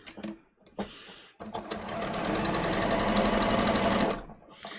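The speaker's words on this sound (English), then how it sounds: "I'm just going to go to a straight stitch, stitch this one down" A sewing machine runs a straight stitch through lining fabric, a steady fast mechanical whir lasting several seconds after a few short starts, loud and close with no talking.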